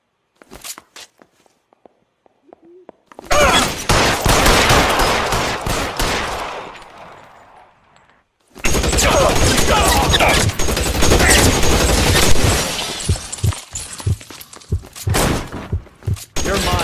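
Gunfire in the video game L.A. Noire: a few sparse shots and thuds, then long loud bursts of rapid fusillade, a brief lull, and more sustained heavy shooting.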